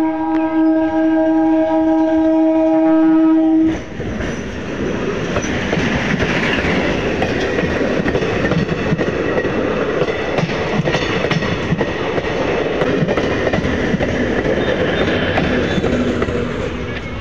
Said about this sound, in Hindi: गाइज देखो एक ट्रेन तो उधर वो खड़ी और एक ट्रेन इधर से आने लग रही है।